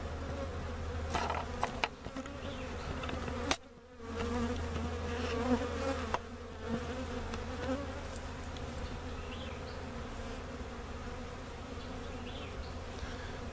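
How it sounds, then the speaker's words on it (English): Bees buzzing around a small swarm, behaving like robber bees, a steady close insect hum that carries through the whole stretch, with a brief dip partway and no talk. "Those bees act a little like robbers"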